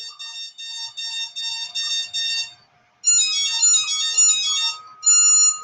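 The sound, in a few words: motor ESC calibration beeps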